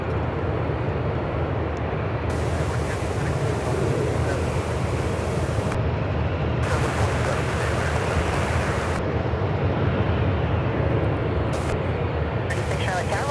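Airplanes taxiing at Charlotte Douglas airport, a constant broad roar of jet engines heard from a distance with gusty wind noise across the microphone, and no talking.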